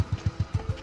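A motorcycle engine putters nearby, about six evenly spaced low thumps in under a second, moderately loud with no talk over it.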